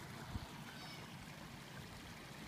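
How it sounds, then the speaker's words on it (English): Rainwater runoff after heavy rain pours through a culvert beneath a driveway into a full roadside ditch, making a steady, faint, continuous rushing and gurgling wash with no voices. "this is a shot off the driveway where the water's flowing under the culvert"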